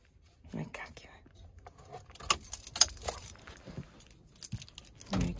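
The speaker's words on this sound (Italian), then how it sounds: "Ma Nicola non ha mica lasciato qua le chiavi. Meglio staccarle." A bunch of keys jangles and clinks in irregular metallic bursts as it is taken off, close and fairly quiet, with soft whispered speech and a faint car sound in the background.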